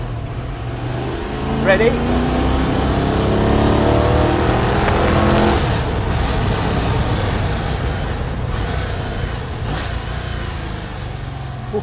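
A Lola T70 replica race car engine revs up and accelerates hard, loud and close, with rising gear pulls and shifts; a voice speaks briefly at the start.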